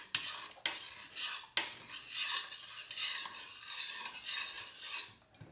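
Honey is stirred into jalebi sugar syrup in a pot, with a few sharp clinks of the spoon against the rim and then a soft, swirling scrape that rises and falls at close range.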